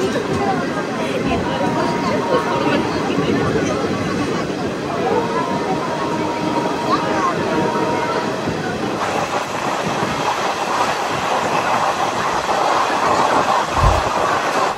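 A Shahid Express passenger train runs steadily near Guskara in West Bengal, with a constant rumbling roar and faint rhythmic wheel clatter heard from inside the carriage, a brief low thump near the end, and a murmur of voices underneath.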